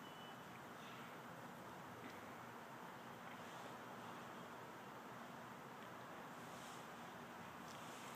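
Cold winter wind blowing outdoors, a steady broadband rush with continuous mic buffeting that stays faint and even throughout, with no clear voices.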